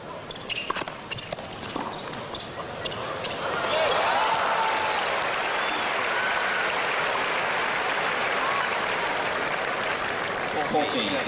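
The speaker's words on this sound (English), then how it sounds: "the noise and partisanship of this huge crowd" A huge tennis crowd at the 1991 U.S. Open quarterfinal between Jimmy Connors and Paul Haarhuis starts with scattered claps and shuffling, then erupts into loud, sustained cheering and applause, with talk underneath.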